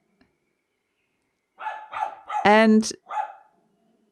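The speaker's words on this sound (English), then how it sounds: "Please excuse my dog in the background. She's barking." A dog barks a few times in a brief cluster, nearby and fairly loud, while a person speaks briefly around it.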